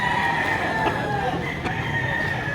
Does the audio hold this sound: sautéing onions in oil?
no